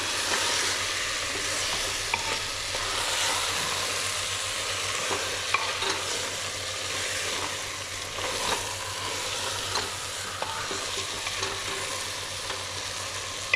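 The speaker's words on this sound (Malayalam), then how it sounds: "ഇനി ചിക്കൻ ഇട്ടിട്ടുണ്ട്. നല്ലോണം ജസ്റ്റ് നടി ചേർത്ത് ഇളക്കാം." Chicken pieces are stirred in a hot frying pan, with a constant sizzle of frying and scraping, turning noises from the spoon, close and steady throughout.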